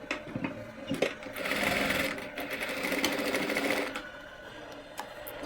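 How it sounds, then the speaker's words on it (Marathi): A sewing machine stitches a pocket onto the waist of palazzo pants, a steady close whirring run that swells in the middle and tapers off, with faint handling clicks at either end. "अगदी अर्ध्या इंचावर व्यवस्थित शिलाई करून घ्यायची आणि इथेसुद्धा कमरेला हा खिसा आता संपूर्ण जोडून घ्यायचा आहे"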